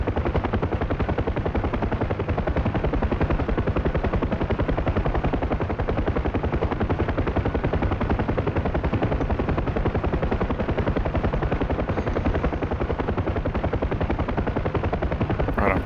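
A UH-1H Huey helicopter climbing in the DCS flight simulator game, with a loud, steady rotor thump and turbine roar running continuously throughout.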